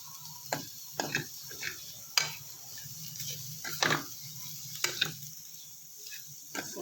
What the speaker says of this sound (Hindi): अब इसमें डालेंगे हम ये बंद गोभी और ये थोड़ी सी शिमला मिर्च काट के रखी थी, इसको शामिल करेंगे और सबको अच्छी तरह से मिक्स कर लेंगे।